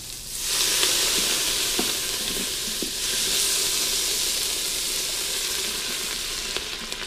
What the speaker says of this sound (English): Alright, let's deglaze.